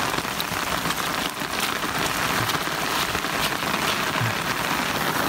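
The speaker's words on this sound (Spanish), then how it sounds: "No es como que llueve, es como que se está cayendo." Heavy rain pours down steadily outside a rented house on marshy ground, a dense, loud, continuous wash of drops hitting surfaces with no let-up and no voices.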